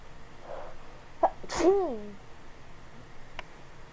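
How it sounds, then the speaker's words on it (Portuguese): A single sneeze, fairly quiet and close, with a short sharp intake before it, in an otherwise quiet room. "eu acabei de espirrar"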